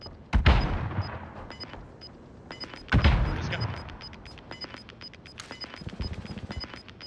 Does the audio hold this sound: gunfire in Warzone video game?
yes